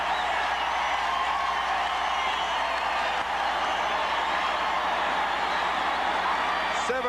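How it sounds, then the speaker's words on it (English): A packed 1979 NFL wildcard playoff stadium crowd, Broncos versus Oilers, roars in a steady, dense wall of cheering and applause after an Earl Campbell run, sustained and loud throughout with no break. "And the crowd goes bananas."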